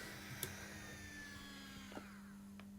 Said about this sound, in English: And the noise, by the way, is the fan.